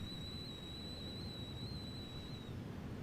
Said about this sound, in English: Once the kettle is boiled